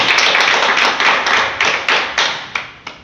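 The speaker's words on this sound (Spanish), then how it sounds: "Denle un aplauso al Señor, hermano." A church congregation applauds in quick, rhythmic bursts of clapping that pulse repeatedly and fade toward the end, close and fairly loud, with no talking.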